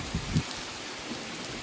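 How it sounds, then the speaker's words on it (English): Rain from a September thunderstorm keeps up a constant broad hiss. Two brief low thuds come early, then the downpour continues evenly at moderate volume with no voices. "It's a thunderstorm in September."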